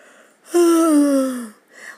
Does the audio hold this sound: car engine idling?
no